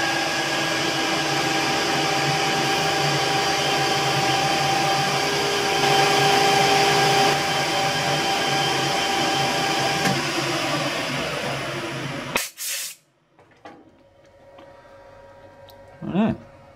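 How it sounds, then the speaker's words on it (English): A metal lathe runs steadily while a parting-off tool cuts a groove in round stock, the same tool used for a shear pin groove on a powered lathe slotter build; the steady machining noise stops abruptly near the end, leaving brief clatter. "Just using our parting off tool that we used for creating our shear pin"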